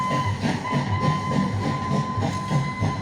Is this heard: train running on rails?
yes